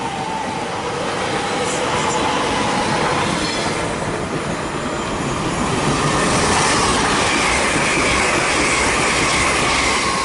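A Great Western Railway IET running from Oxford to London Paddington passes at Ealing Broadway, a loud, steady roar of wheels and rail noise with faint squeal, sustained throughout without talk.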